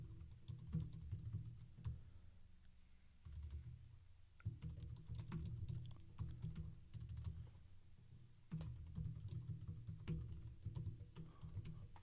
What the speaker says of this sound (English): I'm just typing random stuff here